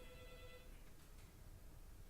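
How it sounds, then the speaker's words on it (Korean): A telephone rings briefly as a call connects on a phone counselling broadcast, a short electronic ring tone in the first moment followed by quiet line hiss, faint overall. "전화 연결하겠습니다."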